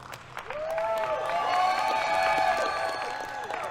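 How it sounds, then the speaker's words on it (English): Crowd on the arena floor at an esports tournament broadcast applauds and cheers as a local school takes the trophy, with loud whoops and shouts over the clapping. "Lots of applause down there on the floor"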